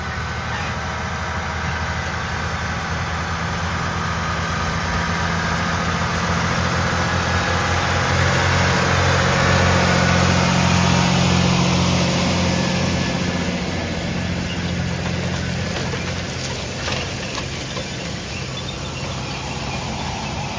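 A John Deere 9RX 830 tractor's engine drones steadily and loudly while seeding double-crop soybeans after dark, a continuous low rumble that swells slightly midway, heard from inside the cab.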